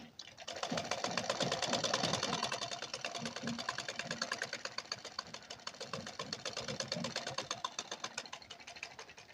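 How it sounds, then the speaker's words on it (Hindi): A sewing machine stitches a blouse, running in a steady rapid whir of needle strokes that holds close and continuous throughout with no voices. "देखो अब यहाँ से हम शुरू करेंगे सिलाई"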